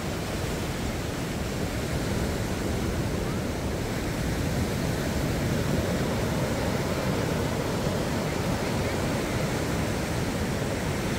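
Ocean surf washes onto the beach at Da Nang, Vietnam, under overcast skies, a steady, dense roar of breaking waves mixed with wind buffeting the microphone and no distinct breaks.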